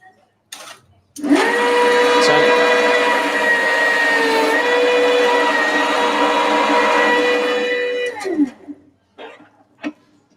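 A manual can seaming machine seals a lid onto a can during a spiced rum cocktail masterclass, a loud steady mechanical whir and grind running about seven seconds, with brief handling knocks before and after.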